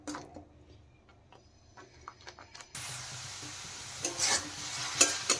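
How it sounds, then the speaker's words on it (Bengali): Spice masala fries in oil for a soybean curry, first quiet scattered stirring clinks and scrapes, then a louder steady sizzle with sharper spoon scrapes. "যতক্ষণ না মশলা থেকে তেল রিলিজ করে ততক্ষণ কিন্তু মশলা ভালো করে কষাতে হবে।"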